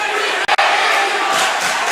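A packed gym crowd at a Newark Charter vs Salesianum boys high school basketball game roars and cheers continuously and loudly, with a brief gap near the start before the noise swells back in.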